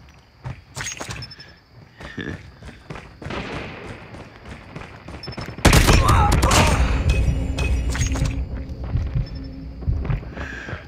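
Gunfire in the Call of Duty video game, with scattered shots and thuds early on and then a dense, loud burst of rapid fire from about the middle of the clip that fades into rumbling effects, with brief game voice callouts.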